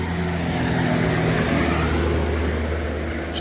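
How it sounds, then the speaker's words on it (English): A loud truck rumbles past near a garden, its heavy low engine drone steady and strong throughout, with no talk over it. "Incoming loud as hell truck."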